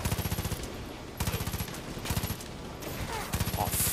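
Gunfire in the video game Far Cry 5, heard as loud, rapid bursts of automatic fire repeating in several volleys with short gaps between them, fairly close and dominating the mix.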